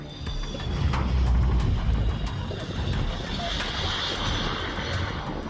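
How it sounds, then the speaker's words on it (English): MiG-29 jet landing on a runway and deploying a drag chute, heard as a loud, steady engine roar with broad rushing noise that holds throughout and eases slightly near the end. "A MiG-29 lands on the runway, deploying its drag chute to slow down."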